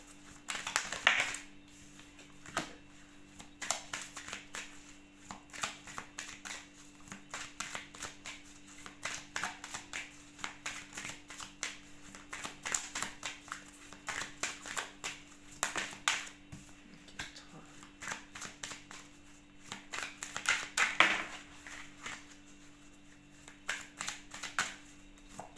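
Tarot cards shuffled by hand in a quiet room, a long run of soft riffling and flicking bursts with brief pauses, close and fairly faint, with occasional taps as cards are laid down.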